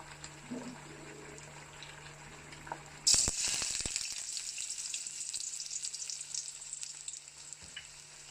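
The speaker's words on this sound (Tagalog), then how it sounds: "Unahin natin ang bawang, sibuyas, at ihulog natin ang sweet potato in a medium heat." Garlic, onion and sweet potato hit a hot pan over medium heat and sizzle; a sudden loud burst of frying settles into a steady close crackle with some stirring.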